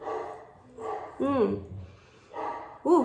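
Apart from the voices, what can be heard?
dogs barking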